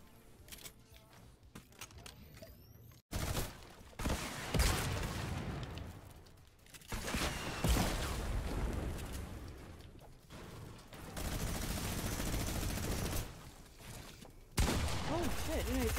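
Rapid SMG bursts in Fortnite crackle in several separate volleys amid game effects, loud and close, with people talking over parts of the action.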